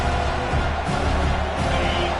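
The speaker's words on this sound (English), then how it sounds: "listen to this crowd noise. This stadium is vibrating" A roaring stadium crowd at a football game, a dense, steady wall of noise with no distinct cheers standing out, loud throughout.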